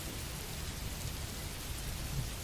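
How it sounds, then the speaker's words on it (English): Rain pouring down in a steady, dense hiss with a low rumbling undertone suggesting distant thunder, constant and fairly loud, with no voices. "Then the rain started."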